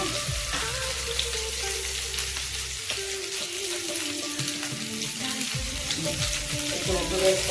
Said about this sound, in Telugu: ఇవన్నీ నెమ్మదిగా వేగనివ్వాలి.